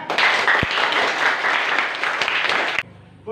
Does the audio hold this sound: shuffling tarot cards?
no